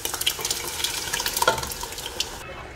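Pav bhaji masala being fried and stirred in a little water in a pan, a soft continuous sizzle broken by scraping stir strokes, close and moderately quiet with no talking.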